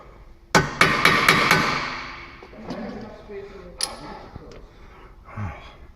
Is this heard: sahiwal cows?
no